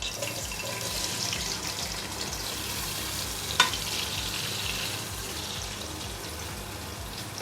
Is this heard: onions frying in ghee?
yes